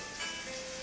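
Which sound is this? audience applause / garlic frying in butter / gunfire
garlic frying in butter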